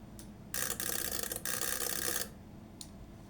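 An automatic antenna tuner rattles briefly as its relays click and chatter through a tuning cycle during a low-power radio transmission. The loud buzzing burst lasts about two seconds, with faint clicks before and after.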